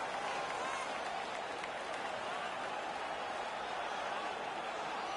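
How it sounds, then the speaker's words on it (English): A home crowd in a hockey video game roars in a steady, dense wash of cheering and applause that holds at an even, moderately loud level without pause. "The home crowd is ecstatic. They're making all kinds of noise."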